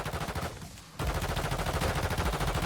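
Rapid automatic gunfire in the mobile shooter Warzone Mobile, a loud dense stream of shots that breaks off for a moment, then resumes at full pace.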